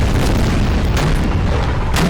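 Dense, continuous booming of ship cannon broadside fired at point blank range in a Napoleon Total War naval battle, a loud overlapping roar of blasts with no gaps throughout.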